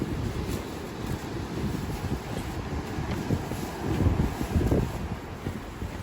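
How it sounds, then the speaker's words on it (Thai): Wind and rain lash a tent at a beach campsite at EOD beach in Rayong, Thailand, a steady rough roar of gusts and flapping with no clear voices. "เจอลมฝนนะครับ"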